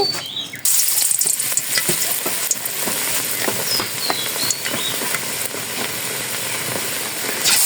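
Battered eggplant slices (beguni) frying in hot oil in a wok, a steady close sizzle with crackling pops that starts abruptly and holds loud throughout, with no voices.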